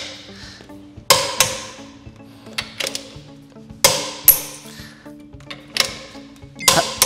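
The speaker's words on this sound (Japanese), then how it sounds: "今インパクトレンチで締めてましたけど" An impact wrench tightening the wheel nuts on a GR Yaris, repeated loud rattling bursts of about half a second each, spaced irregularly with short pauses between, close by and with no talk.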